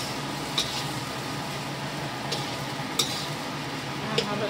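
Leftover fried rice with vegetables sizzles in a pan while being stirred, a steady frying hiss punctuated by a few sharp scrapes and clinks of the utensil against the pan.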